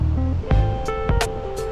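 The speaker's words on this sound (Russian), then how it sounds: "Сейчас очень ветрено и довольно-таки прохладно на улице" Strong wind buffets the microphone outdoors by the sea, with low rumbling gusts, surf-like hiss and a few brief rustling bursts.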